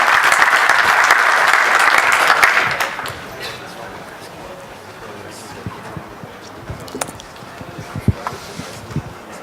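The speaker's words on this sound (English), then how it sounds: "Let's applaud him." A conference audience at FOSDEM 2014 applauds a speaker with a burst of loud clapping that lasts about three seconds, then fades into a quiet hall with scattered small knocks and rustles.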